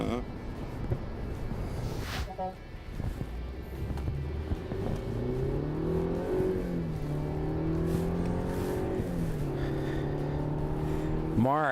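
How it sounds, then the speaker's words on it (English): A car accelerates hard on a road test drive, its engine note climbing through quick, snappy sport-mode gear changes, loud and steady throughout, with someone talking over it. "our executive producer, John DeSciullo, no speed limits were broken during the course of this test drive"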